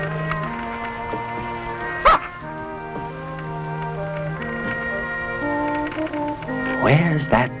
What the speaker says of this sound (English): Where's that dog?